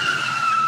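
A cartoon car skids to a stop as an old man brakes on request: a loud, continuous high-pitched tire squeal held steadily throughout, with no talk over it.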